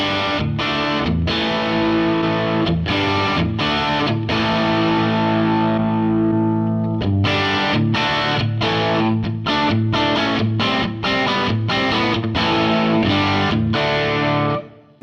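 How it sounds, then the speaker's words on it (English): Electric guitar played through a cranked Fender Princeton amp model with 6V6 tubes on a Fractal Axe-Fx, loud crunchy strummed chords and sustained notes with rhythmic stops, alone and without talk. "And a Princeton, although a smaller amp, actually, you know, it doesn't sound small when you crank it."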